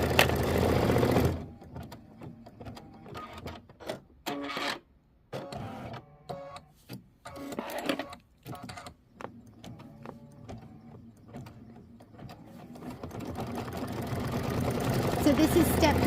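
A Kimberbell embroidery machine stitches a leaf decorative outline on a blueberries mini quilt block, a steady mechanical whir that runs loud at the start, breaks into clicking and intermittent bursts, then builds back to a continuous hum.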